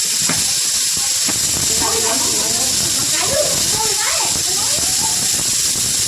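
Bay leaves sizzling in hot oil for a cashew paneer curry, a constant bright hiss running throughout while a person talks over it.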